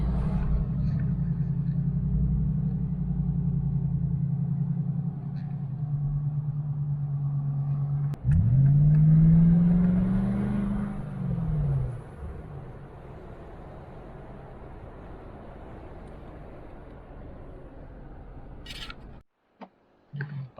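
A Lexus GX460 with a MagnaFlow Overland Series exhaust idles with a low, steady rumble while backing up, swelling into a louder throaty surge midway before settling back to a quieter idle and wind noise.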